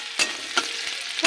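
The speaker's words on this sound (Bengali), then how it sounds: "তেলে দিয়ে দিচ্ছি একটু জিরে ফোড়ন, আর দেবো পেঁয়াজ কুচি।" Cumin seeds and chopped onion frying in hot oil give a steady soft sizzle, broken by three sharp scraping stirs of a spatula in the pan.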